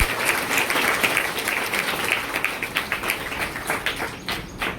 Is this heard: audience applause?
yes